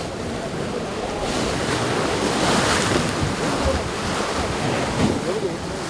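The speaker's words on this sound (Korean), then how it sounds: "깎아지르는 듯한 절벽이 이어져 있는 곡두섬 주위에는 파도도 거세 배를 대기가 쉽지 않습니다" Rough sea surf churns and crashes around a small rocky island lined with steep cliffs off the Korean coast, a loud continuous roar with surging swells and wind buffeting the microphone.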